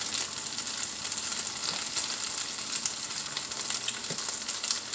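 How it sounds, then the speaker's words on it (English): Gnocchi fry in a pan with a steady, bright sizzle and crackle that runs the whole time, close and fairly loud, with occasional faint stirring sounds and no talking. "Just frying them up a little bit."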